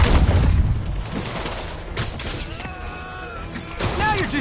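Gunfire in a PS4 video game: bursts of shots and booming impacts over a dense battle din, with some game voice lines underneath and a louder flurry near the end.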